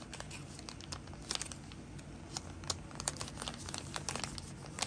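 Stickers are handled and peeled while an Etsy order is packaged, giving close, fairly quiet crinkling and tearing with scattered sharp crackles and no talk.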